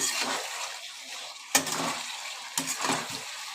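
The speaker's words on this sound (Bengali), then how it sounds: "মশলার সাথে সব আলুগুলোকে ভালো করে কষিয়ে নিচ্ছি" Potatoes sautéed with coriander-leaf spice paste in a pan give off a soft sizzle. Spoon scrapes recur, and two sharper metal knocks sit among the steady frying.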